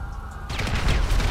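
Rapid bursts of gunfire in the video game GTA 5 roleplay, a loud, dense volley starting abruptly after a short quiet lead-in and continuing to the end.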